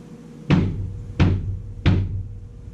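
Three evenly spaced deep thumps from a tuned bass drum with rings placed against the batter and resonant heads, each a punchy low hit with a short boomy decay, heard alone.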